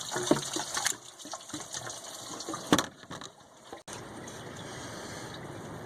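Coolant gushes and splashes from a pried-off hose into a drain pan during water pump replacement on a 2007–2013 Chevrolet Tahoe, Yukon, Suburban or Avalanche, close and uneven, fading to a quieter trickle.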